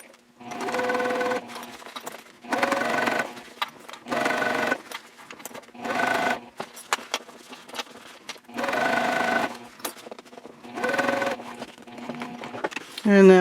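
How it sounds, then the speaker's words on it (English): A sewing machine bastes along the edge of a lower gusset on a Hannah sling bag, running in about seven separate bursts of a second or so with short quiet pauses between them, close and steady. "I'll pivot one more time and baste down the other long edge of the lower gusset."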